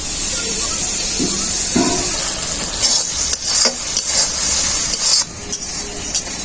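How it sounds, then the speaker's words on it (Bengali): A spice paste of cumin, chili, pepper, turmeric and coriander powders sizzles and hisses steadily in a pan, with stirring scrapes and a splash of water added partway. The sound stays close and loud throughout, and no voice is heard. "মশলাটাকে খুব ভালো করে কষানোর জন্য অল্প একটু জল দিয়ে দেবো"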